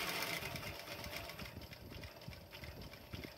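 A leathercraft sewing machine, run by a foot treadle, chugs along in a quick, steady stitching rhythm, faint and somewhat muffled, with small knocking pulses beneath a hissy room background.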